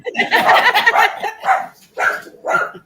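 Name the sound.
dog barking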